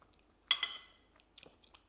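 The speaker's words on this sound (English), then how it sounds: "I don't know if you can hear that crunch" Breadcrumb-topped chicken cassoulet seasoned with sage is chewed close by, giving a couple of quiet, crisp crunching bursts separated by near silence.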